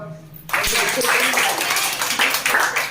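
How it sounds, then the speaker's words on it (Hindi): Children break into brisk, uneven clapping after a brief pause, the claps close and lively, with a voice talking at the start. "ताली बजाओ।"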